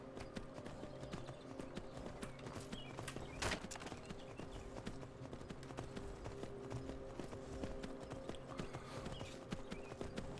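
Horse hooves clip-clop steadily at a walking pace while riding through a town in the Skyrim video game, a continuous rhythmic clatter over ambient game music and background sound.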